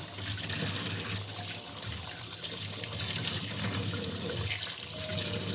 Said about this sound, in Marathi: त्या मच्छीला मस्त असं स्वच्छ धुवायचं